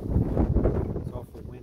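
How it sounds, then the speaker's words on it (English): Strong wind gusting across a lakeside dock at Isle Royale, heavy low rumbling buffets close to the microphone that ease slightly toward the end. "It's awful windy out."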